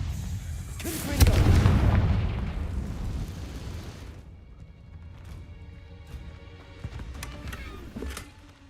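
A Confringo blasting spell in Hogwarts Legacy goes off as a loud, booming explosion, its roar peaking in the first couple of seconds and then decaying into a rumbling tail with scattered smaller crackles and thumps.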